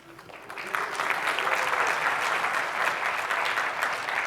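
A crowd of listeners at a Node.js tech talk at Uber breaks into steady applause with some cheering, loud and sustained for several seconds after a brief rise.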